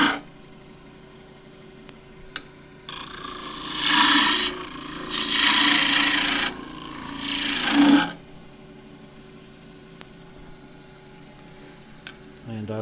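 A 3/4 inch skew chisel cuts Huon pine on a wood lathe, a rasping, scraping hiss in three longer passes mid-clip over the steady hum of the spinning lathe, with quiet gaps and small ticks around them.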